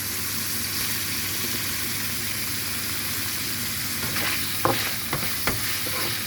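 Shrimp and minced pork stir-fry in a pan with a steady loud sizzle, joined near the end by a few sharp clinks and scrapes of stirring.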